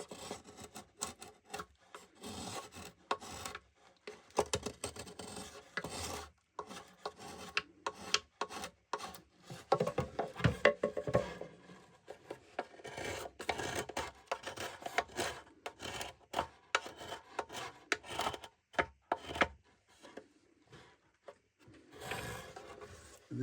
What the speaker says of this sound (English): to trim it down a little bit further, again, you see this is where you see the knife